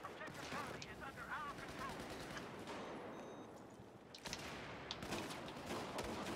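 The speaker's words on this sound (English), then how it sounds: "Oh, it's a shotgun." Shotgun blasts ring out during a snowy Battlefield 4 multiplayer match, a few loud cracks and booms amid dense gunfire and game noise, while players talk over the action.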